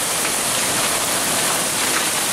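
Extremely heavy rain mixed with ice chunks pounds hard surfaces in a loud, continuous, dense roar with no pauses or voices.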